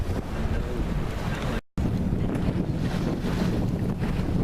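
Sailboat under full mainsail moving at about 5 to 6 knots in a 13 to 16 knot breeze: steady loud wind buffeting the microphone over rushing water and hull noise, with one brief dropout near the middle.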